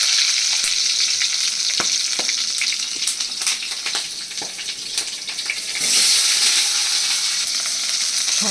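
Onion fries with dried red chillies in hot oil, a loud continuous sizzle with scattered stirring clicks and a surge of hissing partway through.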